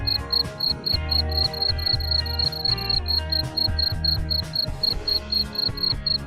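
Farmed crickets chirping in a breeding enclosure, a loud, continuous, tightly pulsed trill repeating in rapid regular bursts up close.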